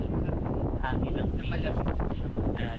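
Strong wind at The Peak in Hong Kong, a dense roaring rush buffeting the microphone continuously, with faint fragments of voices mixed into the gusts.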